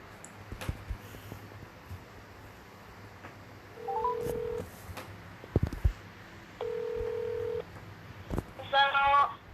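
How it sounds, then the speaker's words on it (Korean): Telephone keypad tones sound twice as a call is dialed, each a steady beep lasting under a second, followed by a short burst of rapid tones near the end, with faint background noise in between. "다시 전화를 해보도록 하겠습니다"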